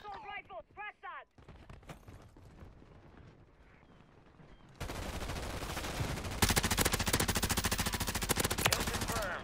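Sustained assault rifle fire in Call of Duty: Warzone, a rapid loud automatic stream filling the second half, preceded by quieter game sounds and a brief voice.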